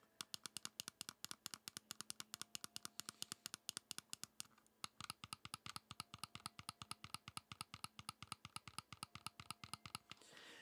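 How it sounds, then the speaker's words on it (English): Digital shoulder bumpers and triggers on a Powkiddy handheld game console click in a rapid, steady stream of sharp, close plastic clicks, dozens in a row with no talking. "these are some darn clicky bumpers and triggers. They are loud."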